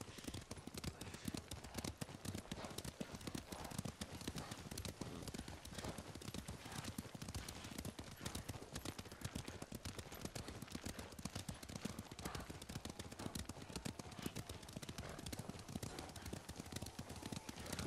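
Horse hooves clip-clop in a fast, dense, steady rhythm throughout, moderately close, with no talk, from the game Ghost of Tsushima.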